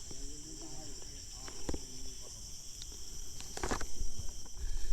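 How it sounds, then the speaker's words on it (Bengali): Steady high-pitched cricket trilling fills woodland in Gazipur, Bangladesh, with scattered clicks and rustles and a few brief bird-like chirps. "দিনে ওরা ঝিঝি পোকার সাউন্ড এমন এত মানে কী বলবো"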